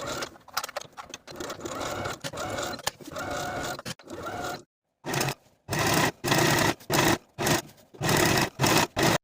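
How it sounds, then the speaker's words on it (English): A home sewing machine stitches the armholes of a cardigan jacket with a 5/8 inch seam allowance, running in short close bursts separated by brief pauses, with one longer silent gap partway through. "And then sew both of the armholes with a 5/8 inch seam allowance and finish your seams."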